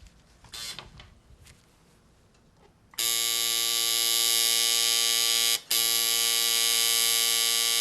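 A tattoo machine starts up partway through and keeps up a loud, steady electric buzz with a strong harmonic hum. It is cut off very briefly once and then resumes. Faint handling noises come before it starts.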